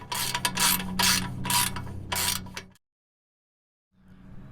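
A hand ratchet turns a 14 mm socket on exhaust bolts of a Nissan Juke during a Nismo exhaust install, giving several loud bursts of rapid clicking, then a full stop and a quieter stretch of ratcheting at the end.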